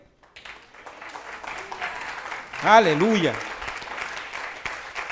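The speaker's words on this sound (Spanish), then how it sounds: "denle un aplauso al Rey" A church congregation applauds the King during a sermon, with clapping and cheering building through the middle, while a voice rises in a sung shout over it.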